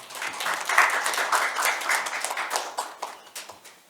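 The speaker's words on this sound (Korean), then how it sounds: "박수로 맞이해 주시기 바랍니다." Audience at a Korean policy forum applauds to welcome a cognitive scientist professor to the lectern, a steady burst of many hands clapping that swells and then tapers off toward the end.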